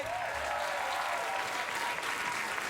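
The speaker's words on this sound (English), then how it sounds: "the audience are showing their appreciation by clapping" A studio audience at a late-night talk show breaks into dense, sustained applause, many hands clapping steadily and close for the whole stretch, with a faint tonal sweep under it at the start.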